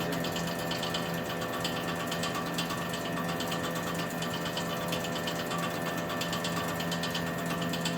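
Lucas horizontal boring mill boring out a roughly 2-inch bore with a Wohlhaupter boring head, giving a steady, continuous machine drone with a whining tone and a fine rhythmic mechanical chatter throughout, close and unbroken.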